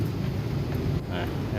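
Abnormal noise from a fairly new motorcycle's pulley with its washer installed backwards: a loud, steady mechanical rumble that runs unbroken through the whole moment.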